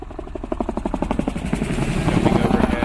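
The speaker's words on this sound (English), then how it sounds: "a helicopter" A helicopter's rotor chops loudly and rhythmically close overhead, a rapid steady thudding with engine whine.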